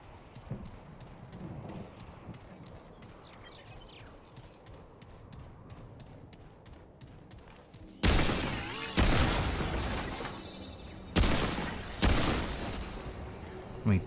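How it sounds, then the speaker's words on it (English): Long gun shots in the video game Remnant 2, several loud booming blasts in the second half, each ringing out, after a quieter stretch of clattering in-game ambience. "2 shots with my long gun, even at that range, is pretty amazing"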